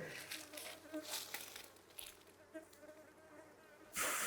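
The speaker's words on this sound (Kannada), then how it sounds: "ಇದರಲ್ಲಿ ಕೆಲಸಗಾರ ನೊಣಗಳು ಮಾತ್ರ ಇದೆ ಗಂಡು ನೊಣಗಳ ಪ್ರಮಾಣ ಸ್ವಲ್ಪ ಕಡಿಮೆ ಇದೆ" Worker honey bees hum softly around an open beehive frame, a faint continuous buzz with brief crinkling and handling noises, ending in a sudden loud rustle.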